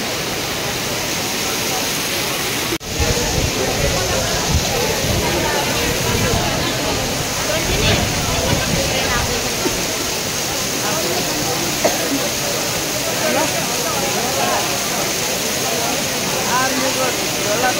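Heavy rain pours down at a Delhi railway station in a loud, continuous hiss that drowns the platform, with a steady wash of crowd murmur and a sharp knock early on.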